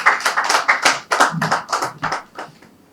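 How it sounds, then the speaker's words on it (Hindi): A small group claps in loose bursts to welcome guests at a speech event, a handful of sharp irregular hand claps close by that thin out and fade toward the end. "जोरदार तालियों से एक बार स्वागत करते हैं"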